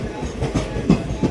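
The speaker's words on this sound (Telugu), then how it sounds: "మన ట్రైన్ అయితే ఎక్కేద్దాం" A passenger train travelling through Tamil Nadu toward Kerala rumbles along with a loud, steady roar, marked by rhythmic clickety-clack wheel thumps at roughly regular intervals.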